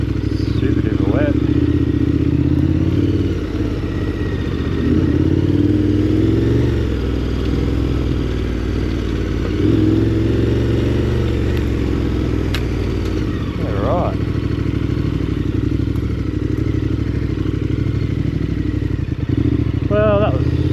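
KTM 1290 Adventure R motorcycle riding a wet, slippery forest track in the Watagans, the engine droning steadily with uneven revs and clattering over rough ground, wind and rider talk mixed in throughout.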